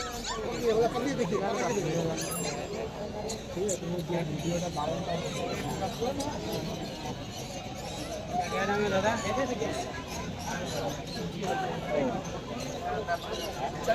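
Dogs and puppies at the Shyambazar dog market in West Bengal, with barks and whimpers mixed into crowd babble and a person talking close by throughout.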